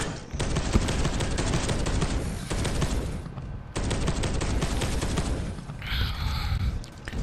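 Bolter gunfire in a Warhammer shooter video game: sustained, loud bursts of heavy automatic fire with a brief pause near the middle, then another long barrage, with a whooshing effect near the end.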